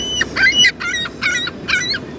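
Seagulls being hand-fed nuts in a Walmart parking lot give three loud, harsh honking calls in a steady rhythm, each a short nasal burst, close by with no talking.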